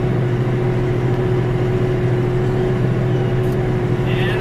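A Mahindra 6075 tractor fitted with turf tires and a grapple drones steadily as it drives through a swampy logging area. The engine hum is continuous and close with a low, even tone and no talk.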